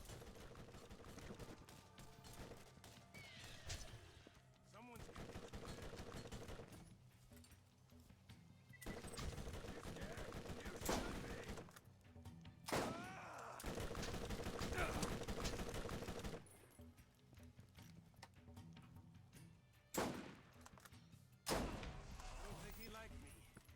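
Automatic turret gunfire in Borderlands, bursts of rapid shots in blocks separated by short pauses, with someone talking over parts of it.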